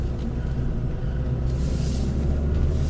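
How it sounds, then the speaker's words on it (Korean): A manual-transmission car engine blipped in neutral from second gear to rev-match a downshift, a steady loud low rumble that swells slightly toward the end, with no talk. "2단 상태에서 중립 빼고 RPM 띄워주고"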